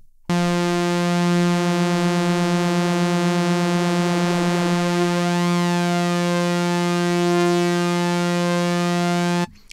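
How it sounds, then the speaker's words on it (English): A sustained synthesizer tone from an Audiothing SX1000 synth hums steadily while a flanger effect sweeps through it, giving a swirling, whooshing motion to the buzzy harmonics before settling. "So nice sounding flanger."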